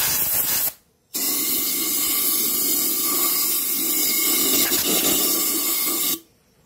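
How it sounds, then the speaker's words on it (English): Compressed air hisses loudly and steadily into the fuel tank of a Bolens BL125 blower for about five seconds, with a short burst just before, blowing debris out at close range. "I haven't blown it out with air yet."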